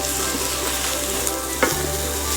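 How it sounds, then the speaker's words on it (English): Minced garlic and onions fry in a pan kept moving, making a loud, continuous sizzle with a brief stirring clack near the end and no voices. "You want to keep this pan moving so they don't burn, the garlic doesn't burn."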